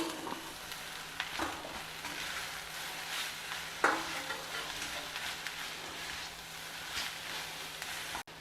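Grated boiled raw banana with curry leaves tossed gently in a hot pan gives a steady close sizzle with soft scraping strokes, and one sharper clink partway through.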